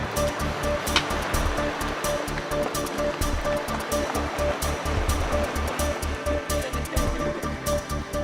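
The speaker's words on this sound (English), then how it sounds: "The sound of bubbles popping, the sound of ice grinding against itself." Antarctic sea ice grinds and bubbles pop in the water, making a dense, continuous crackle of fizzing clicks and snaps over a low, rolling wash. No voices are heard.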